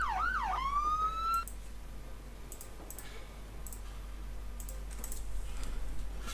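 Short electronic emergency vehicle siren from the Emergency 4 game with the London mod, sweeping up and down quickly for about a second and a half before cutting off, followed by faint clicks over a steady low hum.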